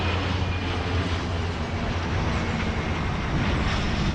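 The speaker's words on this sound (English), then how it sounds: "And airplanes going through the sky." An airplane passes high overhead, a steady broadband engine roar with a low rumble that holds at an even level throughout, with no voices.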